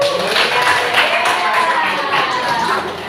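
Students clapping in a junior high school classroom during a guidance lesson, a steady brisk patter of many hands filling the room for about three seconds, with faint voices mixed in.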